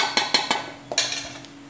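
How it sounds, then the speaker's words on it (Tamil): Bread pieces are stirred in a metal pan with a spoon while making bread halwa, giving a few sharp clinks and scrapes close by in an uneven rhythm, with no talk. "இப்போது ப்ரெட்டை வந்து நல்லா கிண்டி விட்டாச்சு பண்ணிக்கலாம்."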